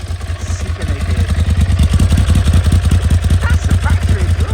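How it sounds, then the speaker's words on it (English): A 2006 Ducati Monster S2R 1000 with its factory exhaust runs close and loud, the 1000 cc engine giving a steady, throbbing pulse with a rapid regular beat throughout, with faint voices in the background. "That's the factory exhaust."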